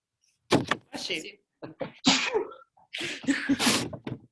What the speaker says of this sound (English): I know you were in the midst of a sneeze